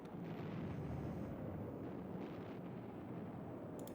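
Strike explosions in the video game Highfleet, a dense, continuous rumbling roar of blasts and booms, fairly faint and steady throughout.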